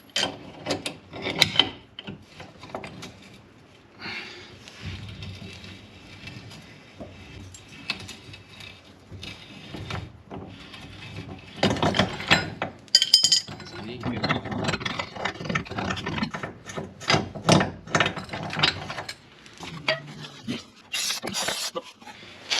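Metallic ratcheting and clicking of a tool tightening a nut on a threaded rod to press out a Porsche 944 rear wheel bearing, repeated in bursts over a long stretch, close up with occasional scraping.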